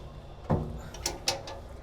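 A tackle drawer on a Yellowfin 6500 HT boat slides with one low thump and then two sharper clicks, close by in a quiet space with no talk.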